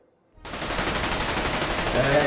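Gunfire at the Hawks shooting club erupts abruptly after a brief silence and becomes a dense, continuous, loud volley of shots that holds to the end.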